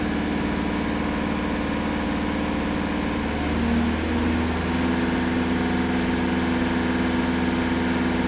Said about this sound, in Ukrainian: Зажимаються дві педалі тормозгаз і автомобіль сам регулює оберти